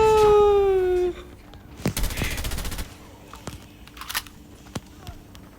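Gunfire crackles during a Hardpoint match in Call of Duty Mobile: a falling electronic tone, then a dense rapid burst of automatic fire, followed by scattered single shots and short volleys.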